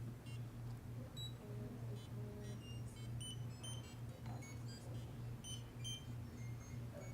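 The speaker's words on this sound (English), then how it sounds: "see what your actual buzzer is going to do when you touch the sensor" Electronic buzzers triggered by touching sensors in a classroom give scattered short high beeps over a steady low hum, faint and irregular.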